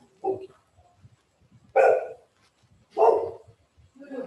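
A dog barking indoors, three separate loud barks spaced about a second apart with quiet gaps between, heard alone without talk.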